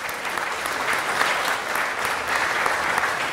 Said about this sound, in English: Let's give them a round of applause for that as a start.